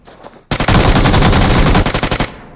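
Rapid automatic gunfire in a battle royale video game, a loud sustained burst of evenly spaced shots lasting about two seconds, trailing off into a few final rounds.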